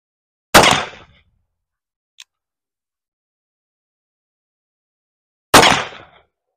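Two loud, sharp rifle shots ring out at an outdoor shooting range about five seconds apart, each with a short decaying tail, fired through a chronograph in a barrel-length test; silence between them.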